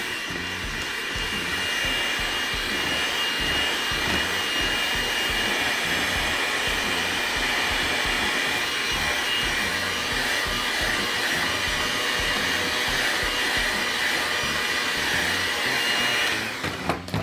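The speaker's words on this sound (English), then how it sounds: "I use this little mixer." A small electric mixer whirs through bread dough for a cottage cheese dill loaf, a loud, steady motor whine that runs continuously and close up, with no voices.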